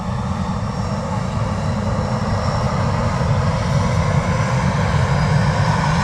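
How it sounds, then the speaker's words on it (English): A Ryanair airliner at Manchester Airport spools its jet engines up to high power, producing a loud, steady, close roar that holds unbroken for about six seconds with no voices over it. "Lots of power there from the Ryanair."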